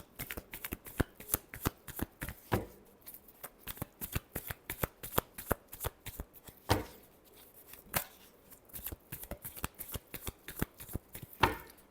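A deck of tarot cards is shuffled by hand during a reading, with rapid repeated riffling snaps and taps in irregular bursts across the whole stretch, close and fairly quiet, with no talking.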